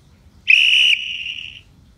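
A shrill, piercing whistle from the whistle mode of a Rockbross electric bicycle bell, one loud steady blast of about half a second that drops to a softer, sustained tone before cutting off.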